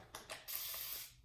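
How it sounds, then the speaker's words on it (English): A 360 spray mister misting natural hair gives two quick faint hisses, then one longer, steadier spray burst that trails off, close and soft with no talking. "You just use this to mist your hair."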